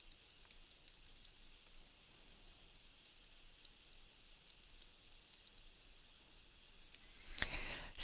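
Typing on a computer keyboard, faint scattered key clicks spread across the stretch, with a slightly louder burst of keystrokes near the end; no voice.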